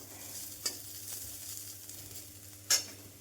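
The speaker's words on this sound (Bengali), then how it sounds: "আর এই যে আলু ভাজা হচ্ছে" Potatoes frying in a pan in a home kitchen: a soft, steady sizzle at low volume, broken by two sharp metallic clinks of a utensil against the pan.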